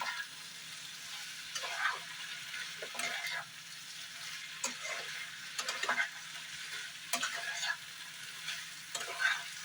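A chickpea curry with ginger paste and chili flakes sautés in a pan. A soft, steady sizzle is broken by repeated scraping strokes of a stirring spoon, close and quiet.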